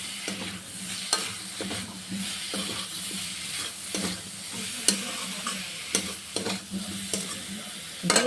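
Potato with onion and chili powder frying gently over low heat: a soft continuous sizzle with repeated utensil scrapes and clicks against the pan, close and fairly quiet.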